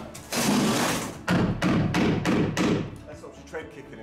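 A wooden stair tread being banged home into its glued housing during staircase installation, a series of about six loud, close thumps in quick succession, fading to quieter knocks at the end.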